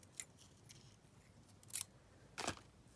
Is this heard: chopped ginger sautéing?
no